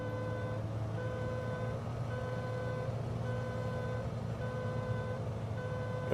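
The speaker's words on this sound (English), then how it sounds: "That beeping is just our landing gear alarm." Landing gear warning alarm in a Black Square Bonanza flight simulator, repeating evenly spaced tonal beeps over a steady engine drone, continuous throughout.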